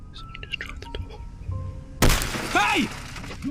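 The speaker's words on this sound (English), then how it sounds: "finding his tent window smashed in the middle of the night" At night a tent window is smashed with a sudden loud shattering crash, preceded by quiet murmuring and followed by a brief rising shout.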